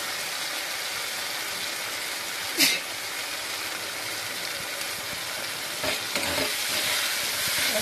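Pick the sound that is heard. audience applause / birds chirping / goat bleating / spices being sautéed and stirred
spices being sautéed and stirred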